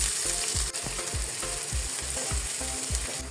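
Chopped onion sizzles steadily in hot oil in a wok, a loud continuous crackle with a rhythmic scraping stir repeating about every third of a second, close up and with no talking.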